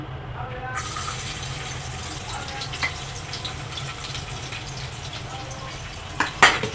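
Hot oil sizzles steadily after garlic hits the pan, a constant close hiss with a few clinks and a louder scrape near the end.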